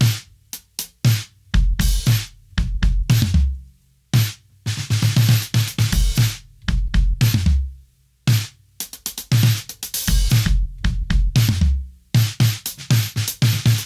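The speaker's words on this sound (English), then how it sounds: "I was experimenting with putting chains, metal chains, on my snare drum." Snare drum with metal chains laid across the head, struck in loud, close, rhythmic patterns; each hit cracks with a sharp metallic buzz and short decay, broken by a few brief pauses, with no voices.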